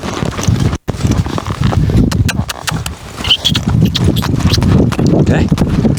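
Hooves of a mare being ridden drum steadily on the ground in a close, continuous rhythm, with light wind buffeting the microphone.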